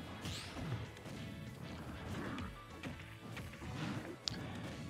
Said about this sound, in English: going for that down smash right at the edge of the stage, too